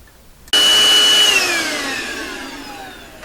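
A vacuum cleaner switches on abruptly and runs loud and close with a steady whine while dusting a Crosley Mohawk Model 14B tube radio, its pitch slowly drifting down.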